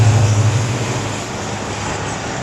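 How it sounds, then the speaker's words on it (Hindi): The Rehman Baba Express passenger train at Shorkot Junction station gives a loud, steady, broad rumble close by that eases slightly as it continues. "ये थी 48 डाउन रहमान बाबा एक्सप्रेस शॉलकोट जंक्शन पर।"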